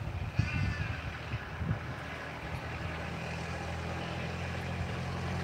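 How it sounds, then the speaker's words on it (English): Crows cawing around a house in an Australian front yard, a few harsh calls early on over a steady outdoor hum that continues after the calls fade. "A lot of crows around today, guys."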